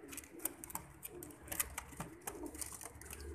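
Sialkoti pigeons coo softly and repeatedly amid scattered wing flutters and shuffling, a low murmuring chorus close by with no talking.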